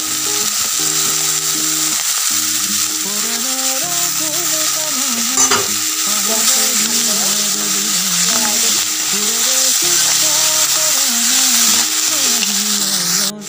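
Spinach stalks fry in a pan with a steady, bright sizzle that carries on without a break, while melodic background music plays over it.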